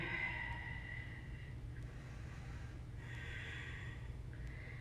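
Deep belly breathing during a slow-flow yoga session: two long, audible breaths, near and soft, each a hissing inhale or exhale, with a quiet pause between them.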